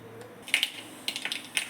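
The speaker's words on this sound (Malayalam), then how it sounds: "കടുക് പൊട്ടിയിട്ടുണ്ട്." Mustard seeds crackle in hot oil for a Kerala sardine curry, with scattered sharp pops coming in small irregular bursts over a faint background hiss.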